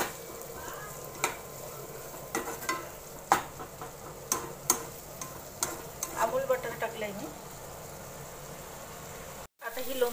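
Onions sizzling in a pan with a little salt while a spoon stirs them, a soft steady fry under repeated scraping taps, with a brief dropout near the end.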